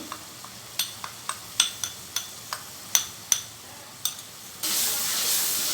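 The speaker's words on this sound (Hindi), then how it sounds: "अच्छी तरह भूनेंगे इस मसाले को हम" Spice masala frying for a black chickpea curry, with a utensil tapping and scraping the pan in a loose rhythm of sharp clicks, then a louder steady sizzle rising near the end.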